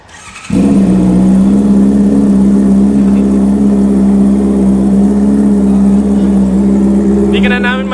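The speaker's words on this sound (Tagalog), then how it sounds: "you do the honors in starting the bike and then leave it at" A Honda CB650R motorcycle fires up from a cold start and settles into a loud, steady exhaust idle, a continuous close low drone with a faint clatter near the end.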